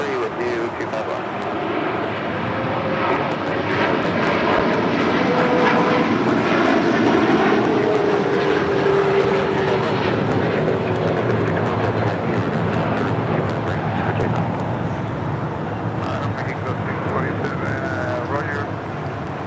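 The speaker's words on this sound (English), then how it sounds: "742 taking off to Doha on the A350 1000" A Qatar Airways Airbus A350-1000 takes off from LAX, a broad engine roar that builds to a peak midway and then eases slightly, with a rising whine passing through.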